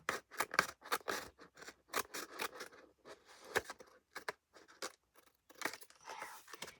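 Scissors snip through stiff card in a quick series of sharp, close crunchy cuts, irregular in rhythm with brief pauses between.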